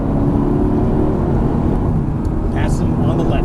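Mercedes-AMG GT S engine on a race track, a steady loud drone sustained throughout with an instructor talking over it.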